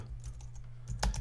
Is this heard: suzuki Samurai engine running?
no